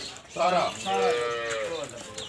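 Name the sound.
Friesian cow mooing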